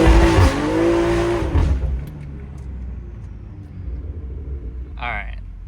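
A BMW M340i does a burnout on drag radials, with a loud close engine rev and tire noise for about two seconds, then dropping to a low idle rumble. A voice speaks near the end.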